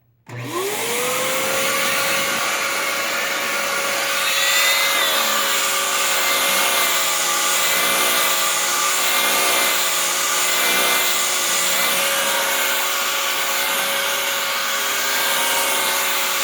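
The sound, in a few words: vacuum cleaner with turbine head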